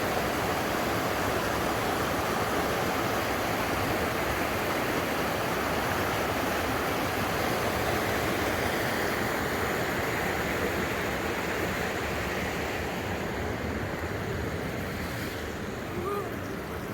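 Continuous rushing spring water pouring from a pipe and hose, a steady broadband splash and hiss that stays loud and unchanging throughout.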